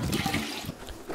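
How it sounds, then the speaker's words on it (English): Water poured onto garden-raised delphinium or larkspur seedlings before planting out, a steady close splashing flow that runs alone through the moment. "give the plants a good watering"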